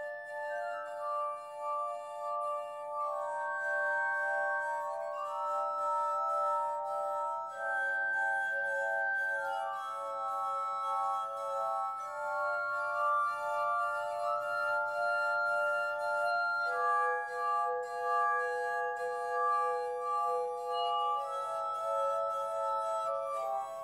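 A glass harmonica, an instrument of rotating glass bowls reconstructed by old methods, plays sustained, pure ringing tones that shift from chord to chord, steady and fairly loud throughout with no voices.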